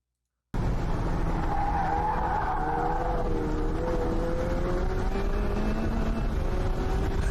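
A race car speeds past on a track, engine note sweeping down as it passes, with a sustained tire squeal and skidding hiss, loud and continuous with no talking.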